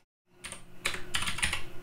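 Close, steady keystrokes on a computer keyboard typing a terminal command, a quick run of crisp clicks following a short silence, with no voice.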